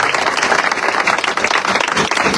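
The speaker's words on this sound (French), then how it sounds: "on applaudit bien fort la ville de Saint-Laurent" Audience at a Miss France candidates' press conference applauding heartily, a thick, continuous burst of many clapping hands heard close and loud, with no talking.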